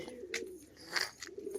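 Domestic pigeons coo softly in short, close calls, several low throaty coos across a brief quiet stretch with light background noise.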